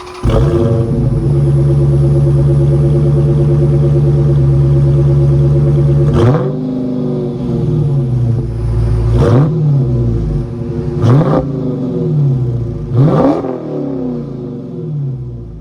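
A 2021 Dodge Challenger Scat Pack with the 6.4-liter 392 Hemi V8 idles with a loud, deep burble, then fires off four sharp revs that rise and fall back to a rumbling idle, close and clear.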